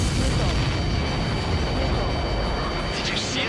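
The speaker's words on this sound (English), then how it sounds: "you see that explosion?" A supply ship explodes in the Ace Combat 7 flight game as a loud, sustained deep rumbling roar with a jet-like wash that fills the whole span, with a voice speaking faintly under it.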